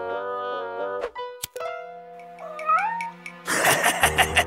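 A cartoon cat meows in a short, wavering cry that rises and bends, set among tonal music and brief hits before a burst of noisy commotion at the end.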